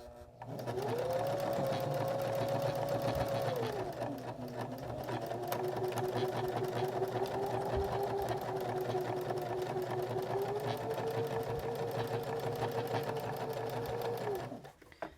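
A sewing machine stitches a seam with a steady mechanical whir. The speed dips briefly near the start and then holds a long, even run before stopping, close and moderately quiet.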